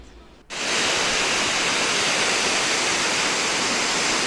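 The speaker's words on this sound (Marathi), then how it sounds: "सेवन सिस्टर वॉटरफॉल आहे हा गँगटॉकला जाताना लागला" The Seven Sisters waterfall on the road to Gangtok gives a dense, steady roar of falling water that swells in abruptly after a quiet moment and stays loud and close.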